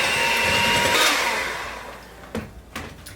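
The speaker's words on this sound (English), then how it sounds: "But let's beat the eggs first." An electric mixer whirs loudly and steadily while beating eggs for gluten-free raisin spice bread, then the motor winds down and fades, leaving a few soft knocks and clatters near the end.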